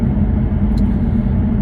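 Steady low rumble of an idling V8 car engine, close and continuous with no revving, filling the moment with no voices.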